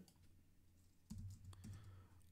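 Python plotting code is typed on a computer keyboard in quiet, close key clicks, sparse at first and then a quick run of taps in the second half, with no talking.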